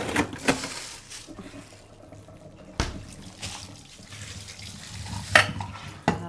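Pork being washed under a running tap before going into containers, with water splashing and rinsing, intermittent handling knocks and clatter, close by and moderately loud.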